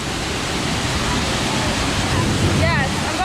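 A waterfall pours at Disney's Typhoon Lagoon water park, a loud, constant rushing roar of falling water close by, with a short high squeal or voice near the end.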